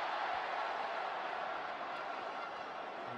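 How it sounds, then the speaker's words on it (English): Rugby stadium crowd at a France versus Wales match, a dense, continuous roar filling the clip at a steady level, distant and broad with no distinct voices. "The noise of the crowd picks up"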